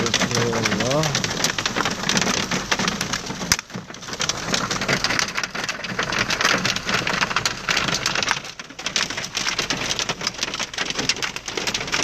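Dense, steady drumming of walnut-sized hail hammering a car roof, heard from inside the car, loud and continuous throughout, with a brief dip midway.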